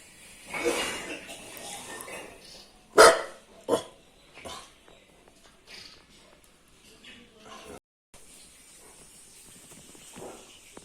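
A pet dog barking at a crow or some other bird gives a few sharp barks, loudest early on, with a voice in the background and quieter stretches between.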